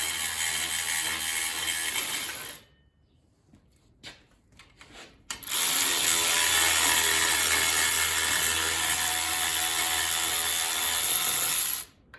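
A ratchet tightens 17 mm bolts on F450 Super Duty air bags in fast, continuous clicking bursts up close, separated by a short quiet gap with a few isolated taps.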